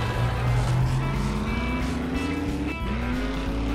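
A vehicle driven in the survival game 7 Days to Die, its engine drone rising steadily in pitch with a brief dip near the end, continuous and fairly close, with no talk.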